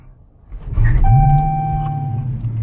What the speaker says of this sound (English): I just popped the clutch and this thing started up